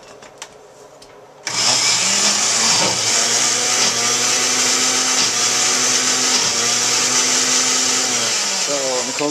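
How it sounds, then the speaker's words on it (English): A blender starts abruptly after a few faint knocks, then runs loud and steady, chopping cauliflower with a whirring motor drone that wavers slightly as the pieces shift. "We're struggling with the blender, but we'll get her done eventually."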